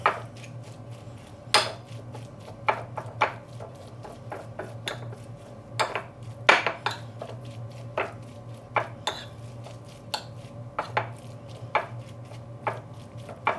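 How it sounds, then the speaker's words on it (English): Salmon ravioli filling, seasoned simply with pepper, is stirred in a bowl, with irregular clinks and scrapes of a utensil against the bowl over a steady low background hum. "Just mix it up."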